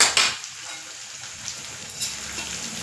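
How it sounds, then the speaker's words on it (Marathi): Curry leaves hit hot oil with a sharp burst of sizzling, then settle into a soft, steady crackle and hiss. "कढीपत्ता टाकला फोडणीला"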